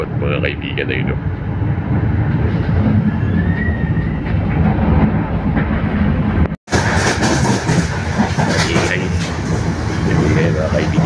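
A train running on rails through forest in Lithuania, heard from inside the carriage as a loud steady rumble with clickety-clack of the wheels, a voice talking over it and a brief dropout partway through.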